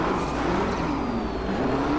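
McLaren P1 3.8 twin-turbo V8 hybrid in the racing game Drive Club, its engine droning and revving loudly and steadily under a high whine, with no talking.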